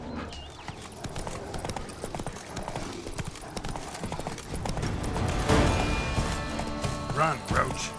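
In The Witcher 3, the horse Roach gallops with rapid rhythmic hoofbeats and clip-clops, building to louder impacts and a brief whinny near the end, while someone speaks over the action.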